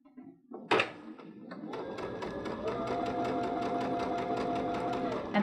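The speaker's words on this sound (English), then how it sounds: "we are going to run our gathering stitch at a 1/4 inch to start" A sewing machine runs a quarter-inch gathering stitch with the tension turned high: a few clicks and a thump as the presser foot sets, then a steady, close, rapid mechanical whir that holds to the end.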